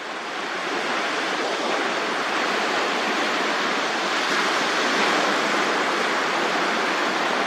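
Water splashing and falling in a dense, continuous roar, broadband and steady from start to finish, loud and close, with no voices.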